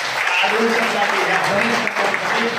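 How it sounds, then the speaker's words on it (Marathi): A crowd claps in dense, continuous applause during a CEO's speech, with a voice speaking over it. "जोरदार टाळ्या आल्या"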